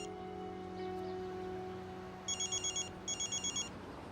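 A telephone rings in two short bursts of rapid trills, faint and slightly distant over a quiet room hum.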